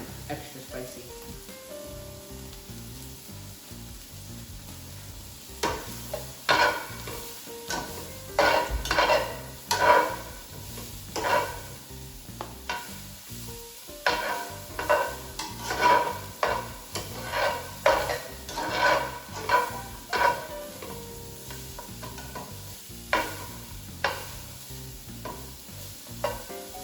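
Peppers cook in a pan for chicken quesadillas as they are stirred constantly, giving rhythmic bursts of scraping and clinking over a faint sizzle, with speech at intervals.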